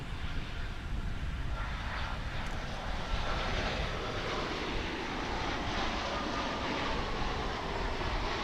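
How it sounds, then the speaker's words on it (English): American Airlines Boeing 787 Dreamliner arriving from Madrid on approach at DFW International Airport, a steady broad jet engine roar that stays loud and constant throughout, with no talk. "we've got American Airlines Flight 37 coming in from Madrid in España. A Dreamliner for you here on Runway DFW."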